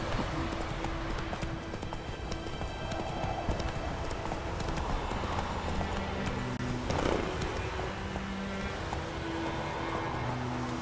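A horse gallops in The Witcher 3, its hooves beating a steady, close clip-clop rhythm over continuous outdoor ambience, with a brief louder accent near the end.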